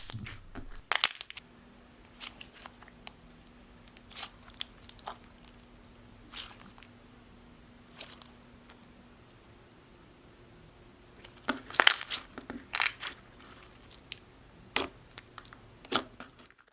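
Crunchy slime packed with hollow glitter pieces being squished by hand, giving scattered crisp crackles and pops in short clusters, close and distinct against a quiet background, with no talking.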